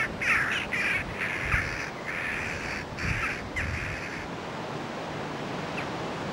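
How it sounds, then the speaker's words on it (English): Jackdaws calling on the Isle of Portland, a run of harsh repeated caws in the first few seconds, fairly near, over a steady wash of wind or distant surf that continues after the calls stop. "The ubiquitous jackdaws nest all over the island, and their calls can be heard everywhere."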